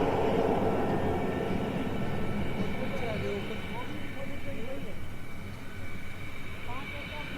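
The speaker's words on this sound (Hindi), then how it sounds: "MiG-27 इस वक्त अपनी आखिरी उड़ान भर रहा है।" A MiG-27 jet on its final flight over Jodhpur airbase gives a steady broadband roar that swells early, then holds at a constant level, with faint voices underneath.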